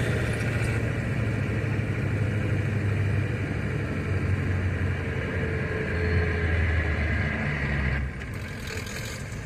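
A 1993 Ford F-250 idles with a straight 3-inch exhaust pipe and no muffler or resonator, giving a steady low rumbling drone close by that shifts slightly near the end.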